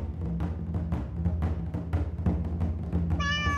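Pet cats travelling with their owners in Japan meow repeatedly in a string of short, close cries, ending in a longer drawn-out wail, with no talking.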